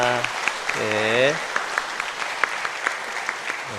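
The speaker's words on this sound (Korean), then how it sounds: "우리 격려의 박수 한번 하겠습니다" A church congregation, standing during a Sunday morning worship service, gives a round of encouraging applause; the clapping starts after a brief sung or spoken phrase and continues as scattered, fairly soft claps from the room.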